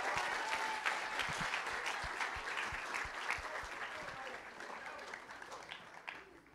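A school audience claps for the assistant principal at a middle school awards event, applause fairly distant and filling the room, slowly fading toward the end, with some voices mixed in.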